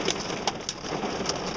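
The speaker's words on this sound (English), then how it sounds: "It's pretty good size hail." Quarter-sized hail and heavy rain fall during a tornado-warned storm, making a dense, steady hiss with a few sharp hailstone impacts sounding out close by, no voices.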